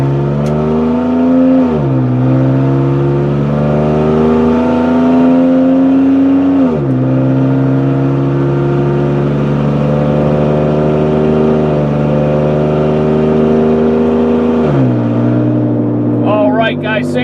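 A silver 2003 Saturn Vue AWD accelerates steadily up to 50 mph from inside the cabin. The engine drone climbs through the gears, falling in pitch at each shift, loud and continuous throughout.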